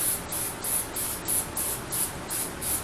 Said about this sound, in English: You're going to spray it with a little non-stick cooking spray.